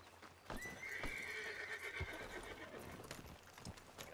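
A horse in a RedM roleplay western ranch setting gives a loud, drawn-out whinny lasting a couple of seconds, with hoof clip-clops and scattered thumps around it and no talk.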